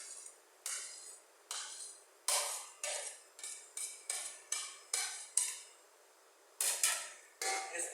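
A spoon scrapes and knocks against a cooking pot while chopped medium-sized tomatoes are stirred into masala, about a dozen sharp rhythmic clinks close to the mic, with no one talking.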